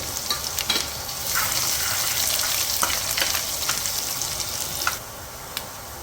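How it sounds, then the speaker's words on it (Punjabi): Garlic and ginger fry in hot ghee, giving a steady crackling sizzle with scattered pops and stirring clicks close by, and no voices. "ਲਸਣ ਤੇ ਅਦਰਕ ਨੂੰ ਆਪਾਂ ਘਿਓ ਦੇ ਵਿੱਚ ਪਾ ਦੇਵਾਂਗੇ ਤੇ ਅਦਰਕ ਲਸਣ ਨੂੰ ਵੀ ਆਪਾਂ 2-3 ਮਿੰਟ ਵਾਸਤੇ ਇਹਨਾਂ ਨੂੰ ਭੁੰਨਾਂਗੇ"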